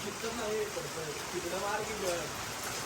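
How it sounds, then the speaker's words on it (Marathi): Heavy rain pours in a constant hiss, with people talking loudly over the downpour throughout. "एवढा पाऊस आहे तिथला पाणी बघ एवढा"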